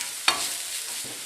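Chopped garlic and parsley cook in a pan, giving a soft steady sizzle broken by a sharp scrape of stirring near the start and a fainter one toward the end.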